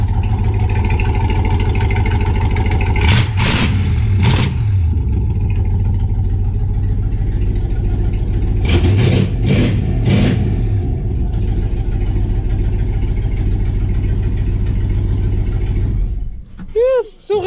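Dodge Coronet V8 with new mufflers and exhaust, a steady loud rumbling idle with a few sharp revs blipping up early and midway, heard close under someone speaking.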